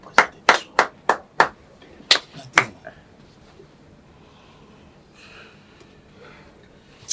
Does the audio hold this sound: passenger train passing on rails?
no